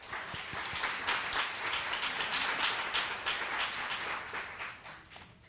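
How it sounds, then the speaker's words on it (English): An audience at a speech-language pathology assistant pinning ceremony applauds a speaker, with crisp claps swelling into full steady clapping that fades toward the end. "Let's give him another round of applause."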